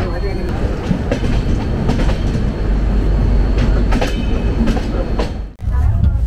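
Loud, continuous rumble of a moving express train from Malda to Howrah with rhythmic clatter of wheels on the tracks, heard from close by inside the carriage.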